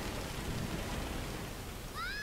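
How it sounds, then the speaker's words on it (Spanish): Steady rain pours in the video game Tomb Raider (2013), a dense continuous hiss of drops with a faint rising synthetic whistle near the end. "El sonido de la lluvia es algo que me flipa."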